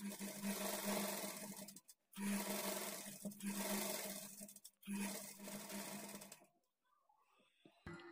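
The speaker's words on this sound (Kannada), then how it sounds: "ಈಗ ಇದನ್ನು ಈ ಥರ ತಿರುಗಿಸ್ಕೊಂಡು ಇದ್ರ ಮೇಲೇ ಡಬಲ್ ಸ್ಟಿಚ್ ಹಾಕೊಳ್ತಾ ಬರಬೇಕು." A sewing machine runs double stitching along a lined blouse, whirring steadily in three long bursts with brief pauses between them, close and loud, then falls quiet at the end with a few faint handling sounds.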